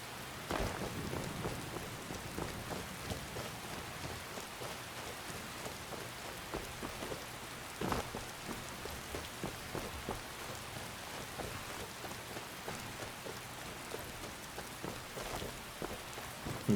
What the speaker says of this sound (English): It's hard to tell if the rain is going to let up soon or not.